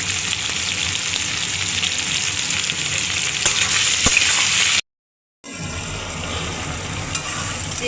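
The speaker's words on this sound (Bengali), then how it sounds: "চিংড়িটা আলু পেঁয়াজের সঙ্গে কেন ভেজে নিলাম" Shrimp fry with potato and onion, seasoned with salt and turmeric, for a Bengali pui mituli chorchori, a loud steady close sizzle that drops out briefly and then resumes.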